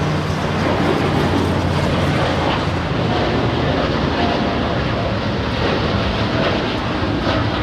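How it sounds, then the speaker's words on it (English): Austrian Airlines Boeing 787 Dreamliner lifting off at Los Angeles International, a dense sustained engine roar at steady loudness, with faint talking at times beneath it. "We're gonna get a nice little 2-for-1 here with the Austrian as the Dreamliner lifts off."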